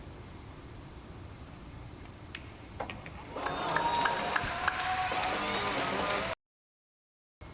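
A crowd at the Reyes Cup pool match reacts to a break, going from a quiet murmur to a sudden swelling roar of voices that holds steady before cutting off abruptly.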